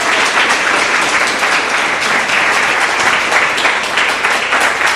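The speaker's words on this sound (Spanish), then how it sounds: "dale un aplauso al Señor con todo tu corazón" A church congregation applauds during a Spanish-language evening service, a loud, dense, unbroken wall of clapping from many people filling the room for the full five seconds.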